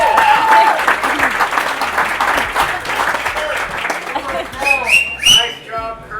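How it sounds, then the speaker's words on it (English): Wedding reception guests applauding in a sustained, dense clatter of clapping, with cheers, whoops and a few whistles rising toward the end, voices mixed throughout. "Can we get a round of applause?"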